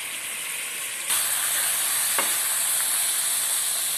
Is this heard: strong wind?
no